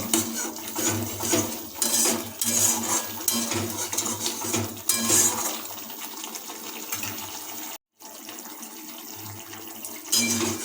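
A spoon clatters and scrapes against a pan while stirring salted spice paste for yogurt fish curry, in bursts of metallic knocks and rattles, close and fairly loud, with one brief silent gap near the end.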